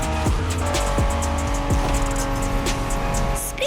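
A Honda NSX in The Crew Motorfest video game revs hard, with its engine pitch climbing and dropping through several quick gear shifts. The engine is loud and up close, with faint tire noise underneath.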